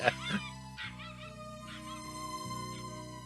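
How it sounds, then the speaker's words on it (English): Dog whimpers and yips in an anime episode, a short yelp at the start followed by soft whining under a sustained musical score. "You should keep your dogs on a leash."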